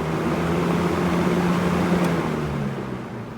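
A Lasko BreezeMaker fan with a freshly oiled plastic motor spinning down, a close, steady hum that slowly eases and fades toward the end.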